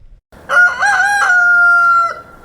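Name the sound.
rooster crowing, chickens on poultry farm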